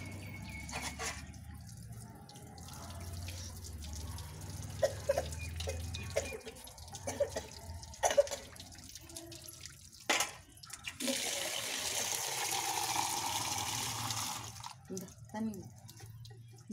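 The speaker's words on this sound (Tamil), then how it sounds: "பாத்ரூம் போனால் கூட கை சுத்தமாக சோப் போட்டு கை கழுவணும்" Hands washed with soap under a running tap: water runs and splashes in bursts with drips and pauses, close by, while someone talks intermittently over it.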